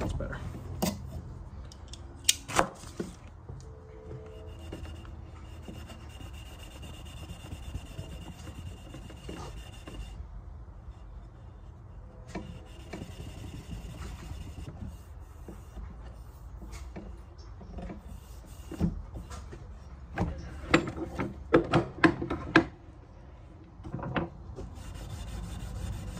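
Varnish being scraped and rubbed off a wooden hammer handle by hand, a steady rasping scrape with occasional sharper knocks and scrapes, close up, with brief voices now and then.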